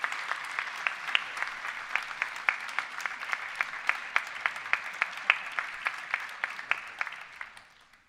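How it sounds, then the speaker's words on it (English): Applause at a university graduation ceremony for the School of Health and Society, with sharp individual claps standing out in a steady rhythm over a softer clapping bed before fading out at the end. "please give a round of applause for all those people here and elsewhere who have helped, inspired and encouraged you throughout your journey."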